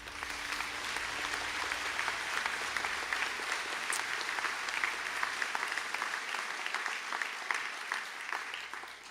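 Steady, dense applause from a large audience for graduates at a college conferring ceremony in Sligo, sustained and even throughout with no speech over it.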